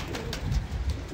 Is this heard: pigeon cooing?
yes